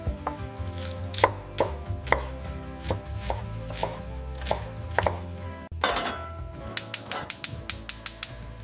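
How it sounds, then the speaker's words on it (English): Vegetables for lasagna, including onion, carrot and green peppers, chopped with a knife on a board, a steady series of close, sharp cuts that speeds into quicker rapid chopping near the end. "First, chop the vegetables."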